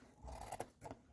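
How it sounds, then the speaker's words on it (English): Scissors trim weaving yarn on a cardboard loom, two quick faint snips close by in a quiet room. "I can leave this long or I can trim it off"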